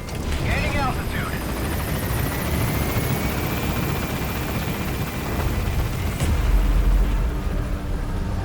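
Helicopter in Metal Gear Solid V: The Phantom Pain climbing away from a landing zone, a steady loud rotor and engine roar filling the whole clip, with faint game radio chatter over it.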